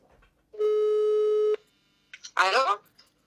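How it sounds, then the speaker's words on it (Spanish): A single steady telephone ringing tone sounds through a call to a hotel in Portugal, lasting about a second, followed by a pause and then a short burst of voices. "Atención, vamos a llamar a Manola"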